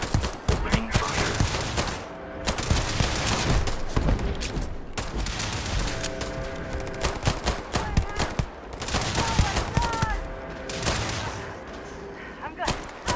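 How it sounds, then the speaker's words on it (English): Dense gunfire from the video game Starfield, sustained bursts and rapid shots crackling loudly throughout, with brief lulls between volleys and battle noise layered over it. "Opening fire."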